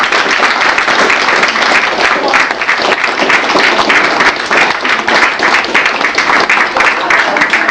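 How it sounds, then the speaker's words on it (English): A large audience at the Armadacon 12 convention closing ceremony gives a sustained, loud round of applause, a dense, unbroken roar of many hands clapping close by for the whole stretch. "Give her a round of applause!"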